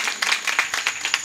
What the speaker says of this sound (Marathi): एकदा जोरदार टाळी दोघांसाठी झाली पाहिजे